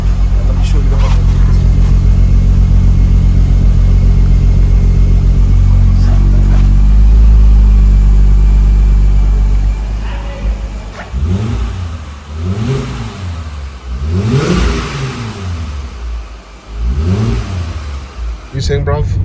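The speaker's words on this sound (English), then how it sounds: "I'm going to show you how the exhaust setup on this is." A Mercedes W211 with a custom exhaust and muffler drones loudly up close for about ten seconds, then revs in several rising and falling surges.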